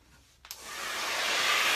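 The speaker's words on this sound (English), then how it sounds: "I'll hit this with the blow dryer real quick." A hair blow dryer switches on to dry paint on a coconut palm tree painting, starting with a click and quickly building into a steady, close rushing whoosh.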